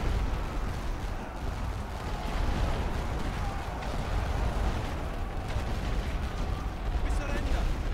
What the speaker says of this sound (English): At least we're getting some rifle fire on them from that back trench